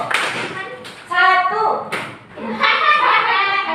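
A sixth-grade class claps in a few sharp bursts of hand claps as the children chant and speak loudly in a classroom.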